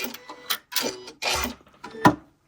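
A Janome Continental M6 sewing machine runs its automatic thread cutter, a close sequence of short mechanical whirs and clicks with brief pauses between them, ending in a sharp snap.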